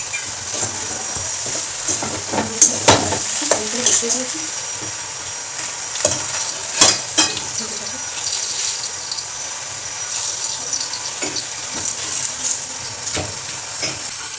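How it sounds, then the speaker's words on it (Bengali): Rolled wheat-flour parathas fry in a pan, giving a low sizzle broken by sharp clacks and scrapes of a spatula at irregular intervals, close and fairly loud, with no talking. "পরোটাগুলো ভেজে নেব"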